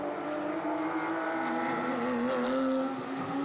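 Porsche GT3 race cars lapping the Zolder circuit in a GT3 championship race, engines droning loudly and continuously with rising and shifting pitch as they run close together, no voices.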